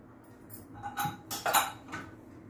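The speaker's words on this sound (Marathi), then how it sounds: "तर आता हे उघडून घेऊ कुकर" A pressure cooker of dried green pea curry is opened after three whistles, once the steam has fully escaped. A few close metallic clinks and clatters of the lid and vessel, with no talking.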